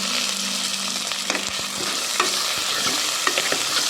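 Chopped onions sauté in hot oil in a pan for green peas kulambu, a steady close sizzle with scattered stirring scrapes and clicks throughout.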